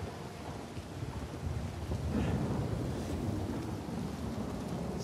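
Steady rain hisses and patters in Uncharted 4 alongside low rolling thunder, with a broad continuous wash of sound that swells slightly partway through.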